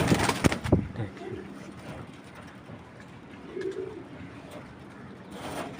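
A racing pigeon held in the hand gives a couple of soft, low coos, faint amid rustling and handling noises close by, with brief background talk.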